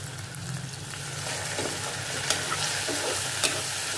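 Potato curry with garlic and chili fries in a pan, giving a steady low sizzle with soft scraping and stirring knocks and a couple of sharp clinks from a utensil against the pan, with no talking.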